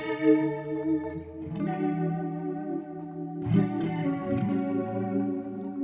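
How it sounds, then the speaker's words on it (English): A guitar through an Axe-FX III or FM9 with swirling rotary modulation, reverb, delay and pitch waviness plays sustained Dumble-style chords and notes, with echoing tails and a slow wavering shimmer throughout. "It's coming from a rotary, a reverb, and a delay block."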